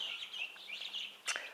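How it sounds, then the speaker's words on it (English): Newly hatched guinea fowl keets chirp in a nest under their mother, a stream of thin high peeping calls close by with a sharper cheep near the end. "there's quite a lot of chirping going on in her nest now"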